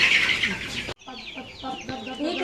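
Kairali breed chickens cluck close by in short, uneven bursts, following a brief rush of louder noise at the start.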